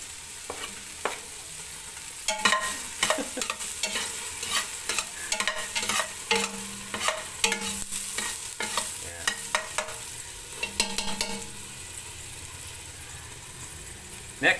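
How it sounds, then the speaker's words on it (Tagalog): Garlic sautéing in a hot pan, a steady sizzle broken by many rhythmic stirring clacks and scrapes of a spoon, close and with no voices. "Tapos magigisa tayo ngayon ng sibuyas bawang."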